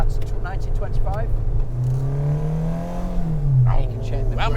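Renault 5 Alpine Turbo engine revving, pitch climbing in a clear sweep and then falling back, close and loud, with people talking over it before and after the rev.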